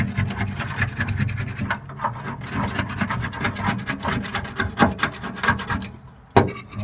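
A rag is rubbed and wiped over the bodywork of a Honda S600 being prepped in the engine bay, floor and boot area, giving continuous close scratchy rubbing strokes with brief pauses.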